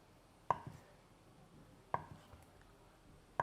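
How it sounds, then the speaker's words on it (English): A knife cutting through a block of tofu on a board, three sharp isolated knocks spaced about a second and a half apart, quiet and close in a still room. "I'm going to cut this in half first"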